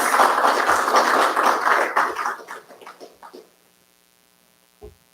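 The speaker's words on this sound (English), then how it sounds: "give our beneficiaries a round of applause as they take on these very important projects" An audience at a trade program project launch applauds the project beneficiaries with dense clapping that thins out and fades over a few seconds, leaving near silence and one final thump.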